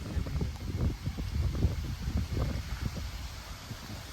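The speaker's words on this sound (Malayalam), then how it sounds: "ഭയങ്കര കാറ്റാണ്" Strong wind blowing outdoors in a scenic open spot, a steady low roaring buffet against the microphone with gusty rumbling throughout and no voices.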